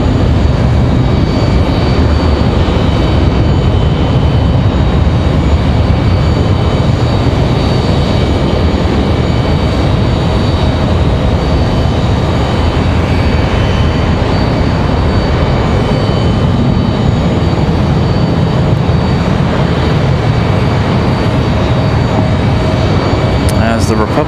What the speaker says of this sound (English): This A321 will get off the ground quite hastily.